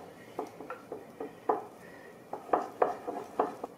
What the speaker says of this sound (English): We'll give it another stir.